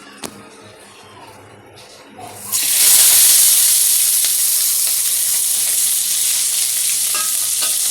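Mixed ingredients for a Bengali-style chickpea ghugni with potato and peas are tipped into hot oil in a home kitchen, setting off a loud, sustained sizzle and hiss that starts abruptly and continues steadily after a quiet start.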